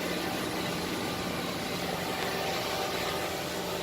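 A Haas ST-30 CNC lathe with a 30-inch swing and 10-inch chuck, new in 2014, turns at 1100 RPM with a feed of about 8 thou per rev, giving a steady, dense, loud broadband whir without pauses.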